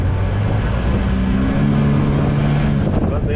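Loud, steady engine drone from a used Seadoo Challenger jet boat on the water, a continuous close roar with some wind buffeting over it.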